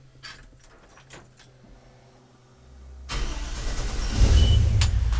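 A junkyard LS V8 truck engine fitted with an Edelbrock Pro-Flo 4 EFI system cranks and catches about three seconds in. It settles into a loud, rough idle close by after quiet ticking and clinking before the start.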